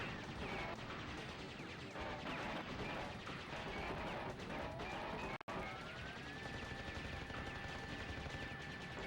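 Continuous rapid gunfire from shooting down incoming missiles in the Crash Bandicoot Warped video game, loud and dense throughout with one sharp break midway and a steady tone rising near the end.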